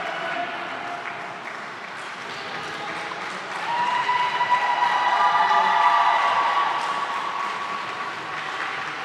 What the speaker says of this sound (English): A lot of clapping from a team for the other.